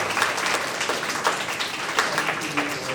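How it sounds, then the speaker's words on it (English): An audience applauds presenters at the end of a presentation session, a steady wash of many hands clapping at moderate distance. "Please give a round of applause for all of the presenters today."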